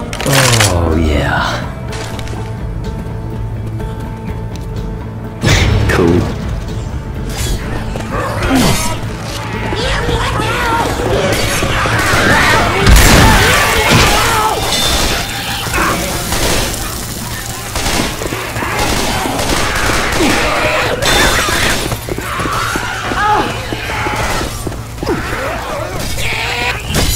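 Incendiary-ammo gunfire in the Left 4 Dead 2 video game, with rapid sharp cracks and bursts of shots mixed with booms and clatter, loud and near, under frequent talking from players.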